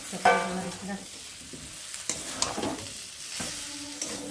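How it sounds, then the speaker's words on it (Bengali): Raw jackfruit and fried potatoes are stir-fried together in a pan, with a steady soft sizzle, scraping strokes of a spatula and a few sharper knocks against the pan, close and alone. "আলু ভাজা আর এই যে কাঁঠালের এঁচোড়ের মধ্যে ঢেলে দেবো, দিয়ে ভালো করে একটু কষাবো"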